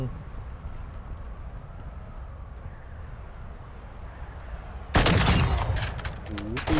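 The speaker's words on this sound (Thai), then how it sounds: "โอ้ยปืนโคตรดัง" Loud gunfire bursts out suddenly in a Call of Duty Modern Warfare II DMZ match, following a stretch of quiet ambient rumble, with dense repeated shots near and overlapping.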